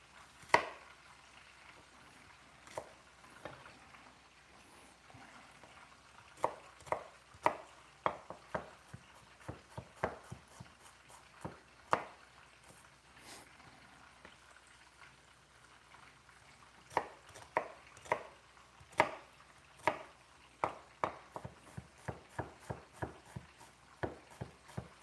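Shallots are chopped on a board for Christmas stuffing, with a long run of crisp knife taps in irregular bursts, close and fairly quiet, pausing in the middle before picking up again.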